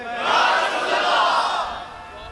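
A large crowd at a religious rally chants a slogan in unison, a loud, sustained roar of massed voices that swells and then fades slightly.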